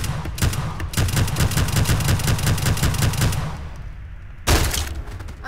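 Rapid gunfire in People Playground, a loud, fast stream of evenly spaced shots for several seconds, a short pause, then another burst.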